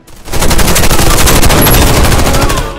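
Sustained automatic gunfire from the online shooter Warface on Xbox 360, a loud, dense rattle of rapid shots running almost continuously through the whole stretch with no talk over it.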